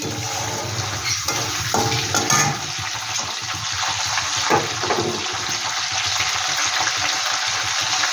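Bay leaf and whole garam masala frying in oil: a steady, close sizzle and hiss runs throughout, with a few faint clinks partway through.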